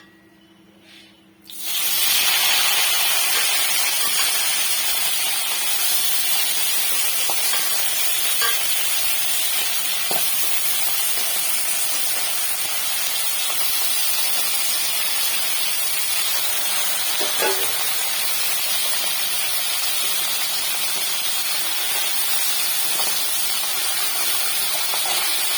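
Tangra fish sizzle and crackle steadily in a little oil in a pan, a loud, continuous broadband hiss that starts abruptly after a short quiet moment and runs unbroken, with faint pops and clinks.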